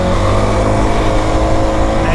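A loud ATV quad bike engine revs continuously, a buzzing motor held at high pitch for a couple of seconds with a steady roar throughout.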